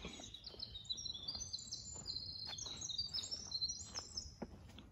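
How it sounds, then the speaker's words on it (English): A bird calls repeatedly in an Appalachian pine thicket, thin high chirping phrases at moderate distance over quiet woodland ambience, with faint footsteps or rustling below. "Bird."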